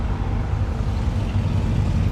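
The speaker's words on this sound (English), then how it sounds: "I'm gonna just let this motorcycle go by." A steady, loud low rumble of engines dominates, like motorcycles rolling past close by, with broadband wind-like noise throughout and no speech.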